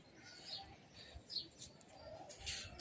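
Pigeons in a home loft kept with racers, breeding hens and silver, khaki and Giribaz birds, giving faint soft coos and chirps over a low steady background hum, with no talk.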